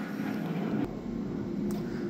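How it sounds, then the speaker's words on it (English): A loud airplane flies overhead as a steady, droning engine roar that holds evenly for about two seconds, with two sharp clicks breaking through. "I love loud planes."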